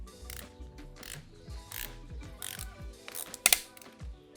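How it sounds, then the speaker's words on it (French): A torque wrench ratchets repeatedly to tighten the seat post collar on a mountain bike, with a run of close mechanical clicks and a sharper click near the end, and no talk. "venir serrer votre collet de selle au couple"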